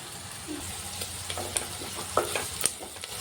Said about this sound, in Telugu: ఇందులోకి కచ్చాపచ్చగా పచ్చగా దంచుకున్న వెల్లుల్లి కూడా వేసుకోవాలి